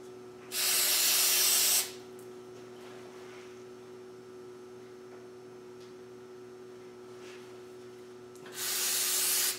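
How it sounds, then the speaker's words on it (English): Brake cleaner sprayed onto moderately clean bolts during a Ghana 110 motorcycle repair, two short close hissing bursts, one at the start and one near the end, with quiet in between. "we can just put some brake cleaner on those and clean them up"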